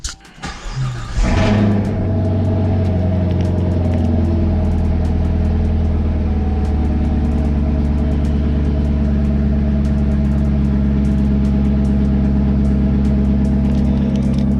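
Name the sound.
2021 Chevrolet Camaro SS engine starting and running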